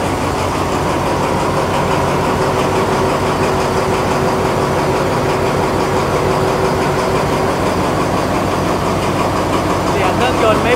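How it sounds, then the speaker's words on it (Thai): An Alsthom diesel locomotive, number 4225, idles at Nong Pla Duk station in Thailand. Its engine gives a loud, steady, deep rumble that continues without a break for the whole stretch. "เสียงเครื่องยนต์ไม่เบาเลยครับ"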